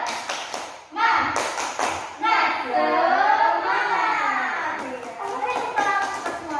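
Schoolchildren in a classroom chant a rhythmic clapping routine with their teacher, bursts of claps and taps mixed with loud, overlapping young voices chanting together.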